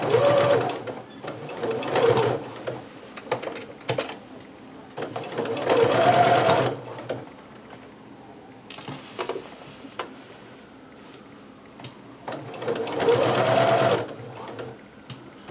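Home sewing machine stitching fabric near the thread's end in three loud running bursts separated by quieter pauses, with faint handling sounds in between.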